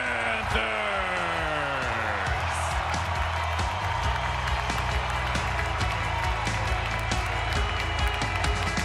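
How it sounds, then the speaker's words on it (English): Dense arena crowd roars and cheers, a loud continuous wash of voices with scattered claps, as fans celebrate the Florida Panthers receiving the Stanley Cup at the arena. "The cup is the chant from the crowd here at Emirates Bank Arena."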